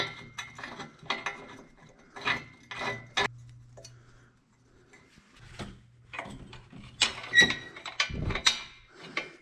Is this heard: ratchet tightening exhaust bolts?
yes